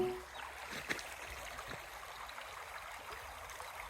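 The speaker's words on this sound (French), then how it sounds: "là on arrive au niveau d'une petite rivière qu'il va falloir traverser" A small river runs beside a hiking trail in the volcanic Esterel hills, a steady broadband rush and trickle of water, fairly close and continuous, with no one speaking.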